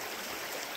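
Creek water near Exit Glacier outside Seward, Alaska rushes in a steady, dense wash of flowing stream noise, close and continuous through the brief moment with no voices.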